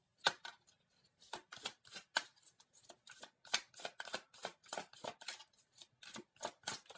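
Tarot cards being shuffled in repeated quick riffling bursts, crisp papery flutters coming in an irregular rhythm, close and fairly quiet, with no voices.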